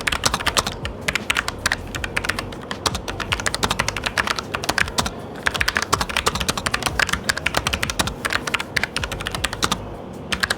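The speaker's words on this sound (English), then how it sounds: "We'll show you while typing how good the experience is." Rapid, steady typing on a Logitech MX Mechanical Mini keyboard, dense clacky keystrokes continuing throughout with brief pauses, close and fairly loud.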